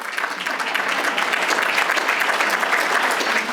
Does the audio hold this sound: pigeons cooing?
no